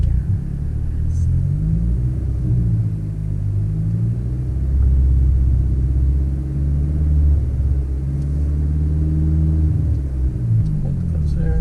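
A manual car's engine rumbles low and loud nearby as a learner driver gives gas, the revs rising and falling unevenly under faint occasional voices.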